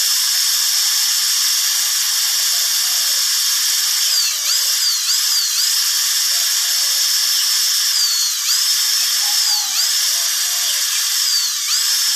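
A high, whining drill boring into a metal turtle dove trap handle runs continuously and loudly, its pitch dipping briefly several times as it bites into the hard steel.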